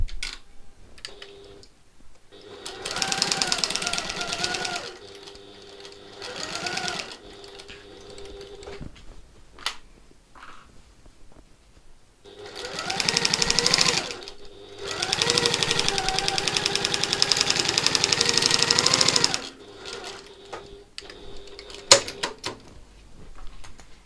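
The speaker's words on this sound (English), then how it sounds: "we're going to sew along that long straight edge" A sewing machine stitches a long straight seam on a satchel lining in loud, steady runs of several seconds each, with quiet pauses and small handling clicks between bursts.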